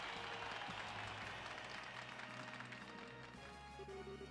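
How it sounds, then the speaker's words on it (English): A video game crowd in The Legend of Heroes: Trails in the Sky FC claps and cheers steadily at a distance, layered over a sustained musical drone, with no one speaking. "let's hear a big round of applause for the victors"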